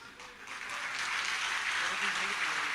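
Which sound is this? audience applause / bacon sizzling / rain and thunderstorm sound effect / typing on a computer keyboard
audience applause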